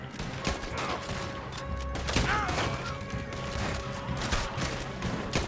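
Shootout in Red Dead Redemption 2 with scattered gunshots, some near and some farther off, over a constant busy game background; faint voice-like sound now and then.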